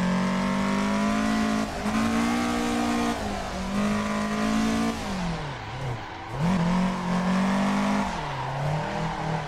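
A Toyota Corolla in Assetto Corsa on Xbox One revs hard, its engine note rising and dipping as the tires squeal through a drift, loud and continuous with no talking over it.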